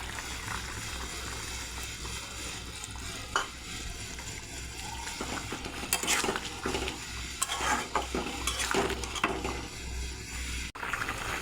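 Fried spice mix stirred into a pan of thin tengra fish curry with papaya, a steady close sizzle under scraping spoon strokes and occasional clinks of utensil against the pan, with no talk.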